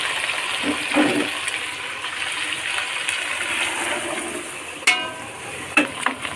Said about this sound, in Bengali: এই আমি দিয়ে দেবো গরম পানি